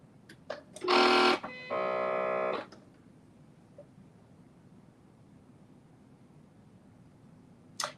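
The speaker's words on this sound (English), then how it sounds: "I am stitching this down" A domestic sewing machine stitches a 5/8-inch seam in two bursts, first a short fast run, then a steadier run of about a second, close and loud, followed by quiet room tone.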